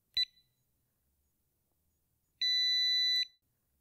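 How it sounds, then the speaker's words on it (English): A GE Choice Alert 45131 door/window sensor gives a brief high-pitched electronic beep, a pause of about two seconds, then a steady, longer beep lasting nearly a second, clear and close in a quiet room. "until you hear a short beep, followed by a long beep"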